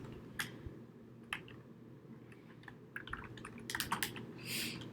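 Quick bursts of keystrokes on a computer keyboard while laying out a postcard design, irregular clicks clustered near the end over a low steady room hum.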